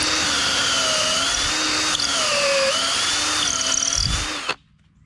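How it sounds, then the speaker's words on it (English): A power drill whines steadily at close range for several seconds, pitch wavering as it bores holes in a clamped-down boat drawer base cabinet, then cuts off abruptly. "go ahead and drill your holes"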